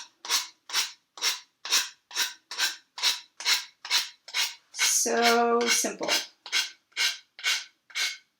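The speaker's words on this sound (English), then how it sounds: "you can take an emery board or you can take sandpaper, and you're going to go down to get rid of that edge." An emery board files the edge of a wooden cutting board in about sixteen even, rhythmic rasping strokes, close and crisp, with a brief spoken remark partway through.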